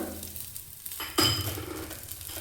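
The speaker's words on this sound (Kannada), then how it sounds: "ಇದು ಘಮ ಬರೋವರೆಗೂ ಸ್ವಲ್ಪ ಚೆನ್ನಾಗಿ ಫ್ರೈ ಮಾಡ್ಕೊಳ್ಳೋಣ" Garlic and spices fry in hot oil as a tempering for radish sambar: a low sizzle with light utensil scraping, then a sudden louder hiss as ingredients hit the pan, settling back into steady frying.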